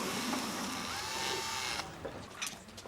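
A second-hand electric power drill runs with a steady high whine for a couple of seconds, then stops, followed by a few short mechanical clicks and knocks.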